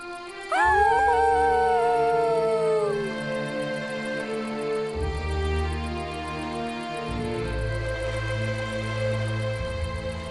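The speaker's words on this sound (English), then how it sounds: "He and Spot looked up at the stars and howled together" Arlo the dinosaur and Spot howl together under the stars in The Good Dinosaur video game, a long rising-and-falling howl with layered voices that trails off over gentle background music.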